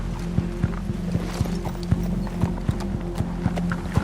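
Horses walking outdoors on a tracking expedition, their hooves clip-clopping in a steady, fairly close rhythm over a low continuous rumble, with no talking.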